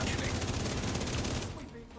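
Dense, rapid gunfire from a video game rattles loudly and continuously, then thins out toward the end.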